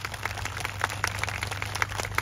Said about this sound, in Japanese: 改めてペアンドちゃんに拍手お願いします